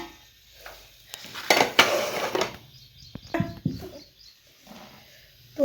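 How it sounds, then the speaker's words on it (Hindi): Garlic, chili and ginger get pounded in a mortar, giving irregular, close thuds and scraping clinks in short clusters with quiet gaps between them. "तो इधर में लहसुन और ये मिर्ची और अदरक है, ये कूटूँगी कुंडी में डाल के"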